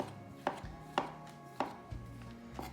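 A kitchen knife chops mushrooms on a cutting board, making sharp, evenly spaced knocks about every half second, close and clear and heard alone.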